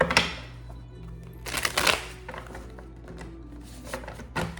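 Close, soft shuffling of a tarot deck, with a few short rustling bursts and card snaps. No one speaks.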